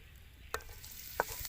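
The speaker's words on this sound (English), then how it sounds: "We fry garlic" Garlic frying in a pan for chicken porridge, with a soft steady sizzle under a couple of sharp stirring clacks, close by and alone.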